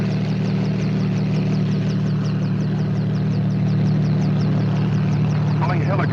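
A 1950s helicopter engine drones steadily with a rhythmic rotor chop throughout, close and continuous, with a brief voice-like burst near the end.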